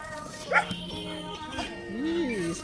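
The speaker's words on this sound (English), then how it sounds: "Look at this dog." A dog on the streets of Venice Beach whimpers and lets out high yips, close by, with people talking over and around it.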